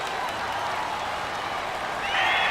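A stadium crowd applauds and roars in the Madden NFL 19 video game, a dense continuous wash of clapping and cheering that swells louder near the end.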